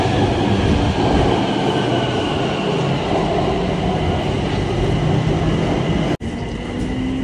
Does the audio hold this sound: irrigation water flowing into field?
no